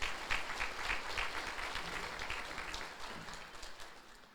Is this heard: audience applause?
yes